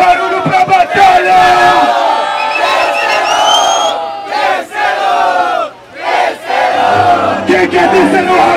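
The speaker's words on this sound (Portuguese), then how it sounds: "Faz barulho pra batalha!" A loud crowd at a Brazilian rap battle roars with cheering, whoops and shouting, surging in waves with brief dips between bursts while voices yell over the noise.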